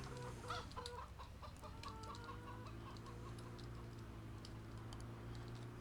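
Chickens at a Farming Simulator 17 chicken farm cluck in soft repeated calls over a steady low hum, quiet and continuous, with light clicking mixed in.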